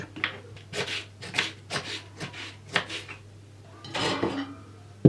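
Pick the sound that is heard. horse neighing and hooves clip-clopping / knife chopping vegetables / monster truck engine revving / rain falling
knife chopping vegetables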